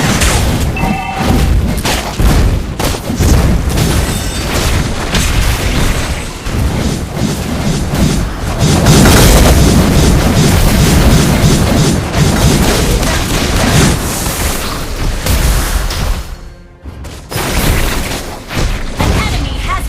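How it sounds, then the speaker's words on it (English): Turret-destruction explosions in a MOBA video game pile into a dense, continuous barrage of loud booms, thuds and crashes that hardly let up for the whole stretch. "Your team destroyed a turret."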